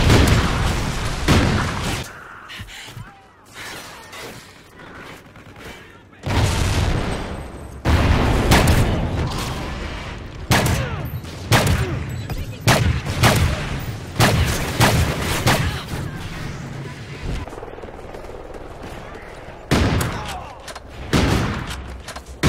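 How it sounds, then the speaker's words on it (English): Video game combat with Trinity rocket strikes: repeated loud booms and explosions mixed with bursts of gunfire, arriving in irregular waves with quieter gaps between. "Trinity rocket inbound."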